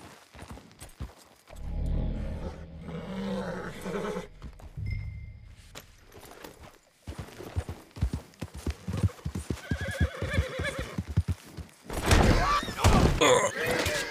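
A horse gives several loud whinnies while its hooves clop and thud on rocks, with scuffling and a few bangs along the way. Bursts are irregular and close.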